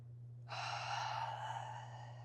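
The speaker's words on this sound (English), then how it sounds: "Really slowing down the heart rate here with these long, intentional breaths" One long, slow, deliberate breath during a cool-down after a strength and conditioning workout, quiet and drawn out over a low steady hum, with no talking.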